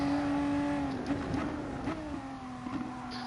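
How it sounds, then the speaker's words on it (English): An upshift to sixth gear in Gran Turismo at Dragon Trail Seaside, a VW in practice: a steady engine tone drops in pitch at the shift, then climbs again under continuous road and wind noise, with no talk. "what I'm using is the upshift to 6th"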